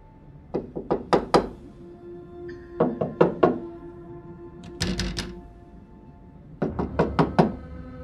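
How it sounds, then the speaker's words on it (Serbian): Knocking on a door in a radio drama: three separate bursts of four or five sharp, close knocks each, with pauses of quiet between them and no talk. "Kucao sam na vrata"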